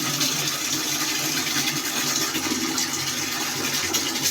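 Water gushes steadily into a bucket at a village water point for livestock, a loud continuous rushing pour close by with no break.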